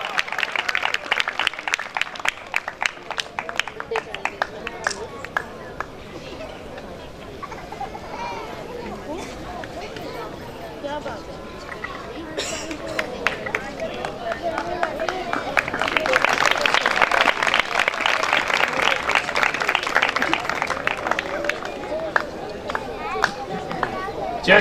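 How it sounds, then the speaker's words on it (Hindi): Audience applause at a township church program, a broad wash of clapping that swells and fades in waves under a lively hall ambience with a voice over a sound system. "आपकी भरपूर तालियों में"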